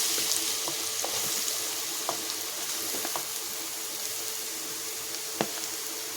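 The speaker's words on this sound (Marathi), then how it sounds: "तर इथे आपल्याला छान तुपामध्ये गाजर परतून घ्यायचं आहे" Carrots fry in ghee for gajar halwa, a soft continuous hiss and sizzle with a few light stirring clicks, close and quiet, with no talking.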